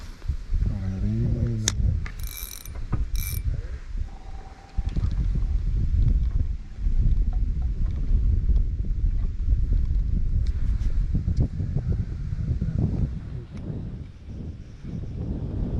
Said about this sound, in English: this wind is making it tough